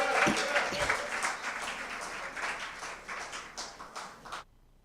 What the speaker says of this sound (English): Another round of applause for Samantha.